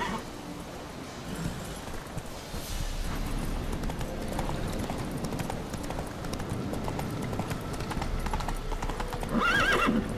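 Roach the horse gallops in The Witcher 3, hooves clip-clopping steadily through the whole stretch, with a whinny near the end.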